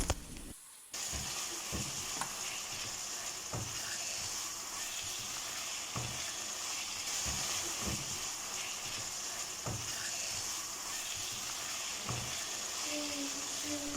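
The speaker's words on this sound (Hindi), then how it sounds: "और अब हम चिकन को थोड़ा सा फ्राई कर लेंगे तकरीबन 3-4 मिनट" Half a kilo of boneless chicken fries over medium flame with a soft, continuous sizzle, and occasional stirring knocks are spread through the quiet frying.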